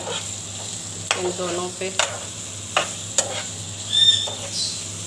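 Pulao is stirred and fried in a pan, with intermittent spoon scrapes and knocks over a low sizzle, up close. A short spoken phrase and a faint bird chirp come in partway through.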